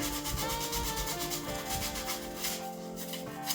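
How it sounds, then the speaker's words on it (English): Steady, continuous rubbing and scraping of sandpaper worked by hand over a walnut and MDF cabinet, close and fairly loud, with no talking. "just getting to with a lot of hand sanding here"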